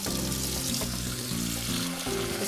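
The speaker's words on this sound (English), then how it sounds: "Okay, very hot tap water." Very hot tap water runs steadily and loudly from a kitchen faucet, a continuous rushing stream with no talking.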